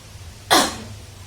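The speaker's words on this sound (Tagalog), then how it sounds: "Umubo kang malalim." A single sharp cough, close and clear, from a patient with back, tailbone and shoulder pain, against a quiet low background hum.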